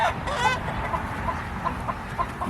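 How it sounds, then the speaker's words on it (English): Large chickens cluck in a poultry pen during a duck round-up, several short calls repeating at a steady pace, fairly close, with a low rumble of farmyard noise underneath and no talking. "Damn, those chickens that big."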